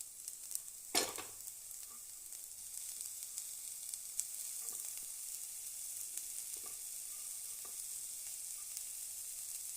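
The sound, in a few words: cooked banana flower added to hot pan, sizzling and stirred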